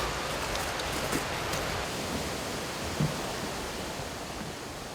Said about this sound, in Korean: 깊은 산속으로 들어와서야 만날 수 있는 관창폭포.